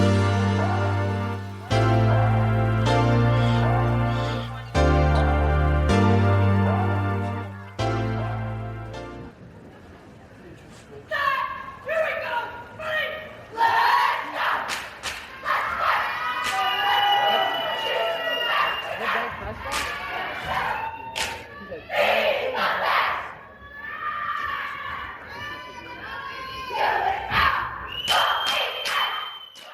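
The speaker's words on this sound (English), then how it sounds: "That is the sound of competitive cheer" Competitive high school varsity cheer squad in action, a loud energetic crowd of voices chanting and yelling with sharp shouts and cheers, following a few seconds of pounding music with heavy bass beats.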